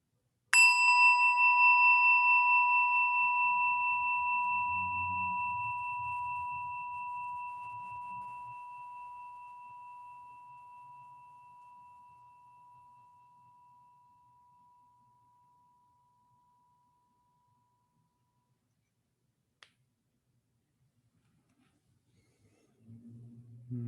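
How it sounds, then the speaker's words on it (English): A single meditation bell is struck once, ringing out in a pure, sustained tone that slowly fades to silence, with a faint murmur of voice at the end. "I'm going to ring that bell that I rang earlier and see if you can follow the sound of the bell until it goes all the way out"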